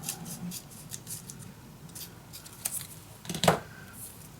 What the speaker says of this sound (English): Let's cut it in half.